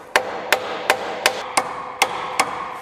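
Seven sharp metallic hammer blows strike a nut at a steady, even pace, loosening a part during engine removal from a Renault Megane 3 RS; close and loud with no talking.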